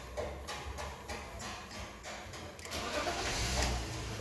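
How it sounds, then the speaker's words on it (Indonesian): A 1997 BMW 323i E36 with its six-cylinder engine cranks and fires up, the starter whirring before the motor catches and settles into a steady, close idle that swells louder toward the end. "tinggal kita nyalakan mesinnya aja langsung"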